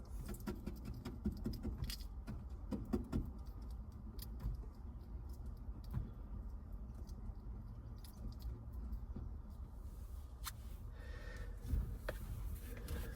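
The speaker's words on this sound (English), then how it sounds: "I'm going to take a brand new razor blade and scrape the old adhesive off the windshield" A new razor blade scraping old adhesive off the windshield of an older Ford F150 pickup, a dense run of fine rapid scratching strokes with scattered clicks, close and continuous with no talk.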